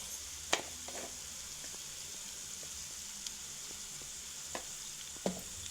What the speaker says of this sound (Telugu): కారం వేసుకొని కలుపుకొని ఒక ఫైవ్ మినిట్స్ వేగనిద్దాం